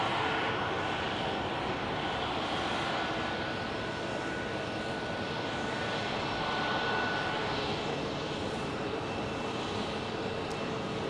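An Airbus A320neo airliner at Phoenix Sky Harbor Airport gives a faint, distant, steady engine roar that swells slightly and fades, heard alone with no talking.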